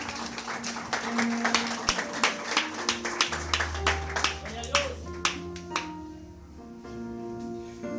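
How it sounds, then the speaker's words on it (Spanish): A church congregation claps for the Lord in loud, rhythmic bursts of many hands, with a voice speaking over the applause before it fades toward the end. "Regale fuerte palmas al Señor"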